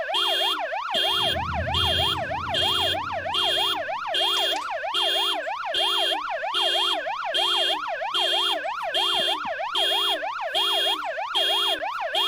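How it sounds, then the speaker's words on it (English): A car alarm blares continuously, a rapid rising-and-falling electronic wail pulsing in a steady repeating cycle, loud and close, with a brief low rumble underneath early on. "I hate the sound of car alarms."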